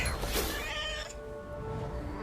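A cat meows in What Remains of Edith Finch, one drawn-out, rising-then-falling cry heard close and clear against a soft low background, no talk.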